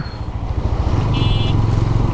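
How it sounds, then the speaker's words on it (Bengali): A GPX Demon Da Corsa 2 motorcycle accelerates hard after an upshift once clear of a traffic jam, its engine droning loud and close with a steadily rising tone over rumbling road noise. "এই গিয়ার আপ করে বাইকটা টান দেওয়ার সাথে সাথে কিন্তু"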